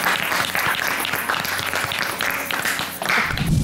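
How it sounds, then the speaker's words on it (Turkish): A television studio audience on a Turkish cooking competition show applauds continuously, a dense wash of many hands clapping in surging waves, fairly loud and close. "Ama şimdilik sizi alkışlarla uğurluyorum."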